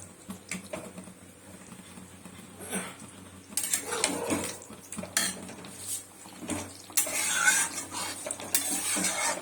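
Aloo posto, potatoes cooked in poppy seed paste without turmeric, sizzles in a pan over a lowered gas flame, with scattered spatters and the clatter and scrape of a utensil stirring against the metal, building louder toward the end.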